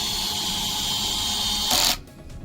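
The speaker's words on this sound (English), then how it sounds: "I'm going to torque my drill up and use 2 hands to pull in the top." A cordless drill driving a screw while building a deck whirs steadily at high speed, a continuous mechanical drone that cuts off abruptly near the end, leaving a quieter background.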